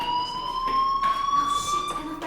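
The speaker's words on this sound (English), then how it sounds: "Hey, do you hear that fire alarm?" A school fire alarm in the video game Life Is Strange rings steadily with a high electronic tone, loud and continuous throughout, with no talking over it.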